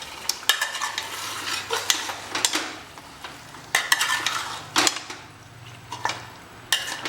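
Mutton being stirred with black pepper powder, salt and spices in a pot, a spoon scraping and clattering against the metal in uneven bursts over a soft sizzle.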